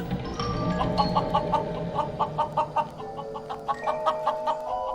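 A rooster in the video game Voyage: Journey to the Moon gives rhythmic, repeated clucks, a steady series of short calls over a continuous background, fairly close and clear.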